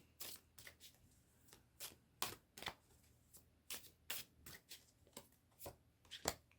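Tarot cards are shuffled by hand in quiet, close riffling bursts, a dozen or so short papery snaps spaced irregularly across the stretch.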